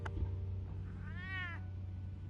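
A cat in the Telltale Batman video game gives a single clear meow partway through, rising and falling over about half a second against a steady low background hum.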